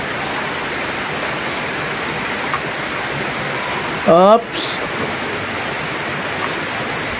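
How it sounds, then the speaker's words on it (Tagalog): Heavy rain pours without letup in a steady dense wash of noise that fills the whole stretch. Midway a voice briefly exclaims over it. "Di pa rin humupa yung ulan mga kababayan,"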